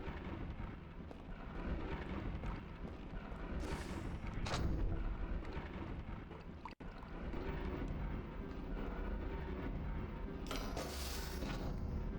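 Dense, continuous rumbling gunfire and heavy blasts fill the stretch from a submachine gun in the video game Tomb Raider: The Angel of Darkness, loud and sustained with brief louder bursts and one abrupt cut midway.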